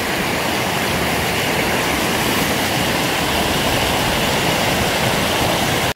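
A river rushes beside a hiking trail in Glacier National Park, a loud, steady roar of fast-flowing water that fills the whole stretch without pause.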